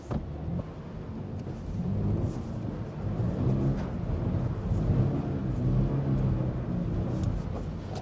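A Toyota GR86 drifting with throttle-controlled wheelspin: a steady engine drone and tire rumble runs for about eight seconds, fairly constant in level with slight surges of revs, no voices.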